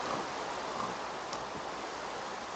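Steady rainfall in a video game, a dense, even hiss of rain that stays loud and constant throughout with no talking.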